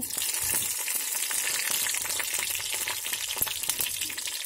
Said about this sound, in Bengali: তেলটা গরম হয়ে গেছে, কালো জিরে দিয়ে দিচ্ছি, কাঁচা লঙ্কা দিয়ে দিচ্ছি